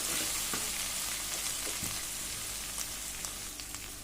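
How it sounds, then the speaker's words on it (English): Garlic and ginger fry in a pan over a medium flame, giving a steady, close sizzle throughout with occasional soft stirring clicks. "Fry it well so that the raw taste of garlic and ginger goes away. Fry it on medium flame."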